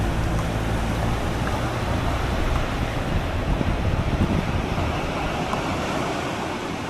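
Waves washing onto an empty sandy beach in Salvador de Bahia, Brazil, a continuous broad rushing surf with light wind, steady and fairly loud, with no voices.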